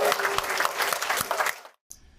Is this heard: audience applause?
yes